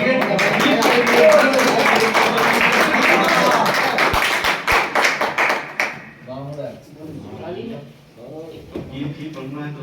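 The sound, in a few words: audience applause welcoming a poet at a mushaira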